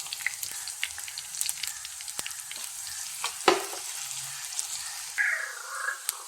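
Sliced garlic and chopped ginger fry in a pan for a Kerala-style chicken curry, a continuous close sizzle punctuated by sharp spatula clicks and a louder burst midway, with no voices.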